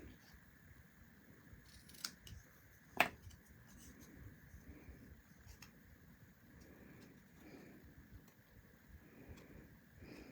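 Scissors snip paper during a Halloween paper craft at a table: two quick, sharp cuts land a second apart, faint against a quiet room background.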